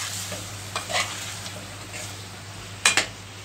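Tomato and cauliflower being stirred with spices in a pan for a Kashmiri dish, a soft continuous sizzle with a few scraping strokes and a sharper utensil clack toward the end.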